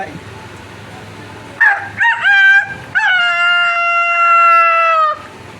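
A person loudly imitates a rooster's crow, a few short rising calls followed by a long sustained drawn-out cry, close and clear.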